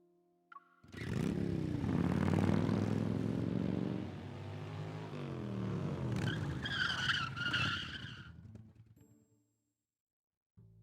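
A small hunter motorcycle in the game Love and Deepspace starts off and rides away, its engine swelling loud and rising in pitch before a second surge fades and cuts to near silence.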